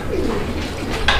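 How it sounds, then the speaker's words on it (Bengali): A pair of Lahori pigeons coo in a short, close burst over steady background noise, with no talk. "আমরা এই মুহূর্তে দেখতে পাচ্ছি এখানে চমৎকার আরো এক জোড়া লাহোরি কবুতর আছে"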